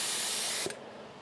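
A steady blast of compressed air hisses loudly from a spray gun, then cuts off abruptly with a short puff, leaving a faint hiss.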